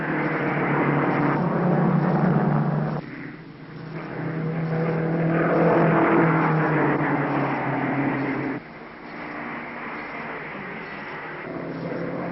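Race car engines at the 1953 Indianapolis 500 roar continuously in a thin, old-sounding recording, the drone swelling and dropping as cars pass on the circuit.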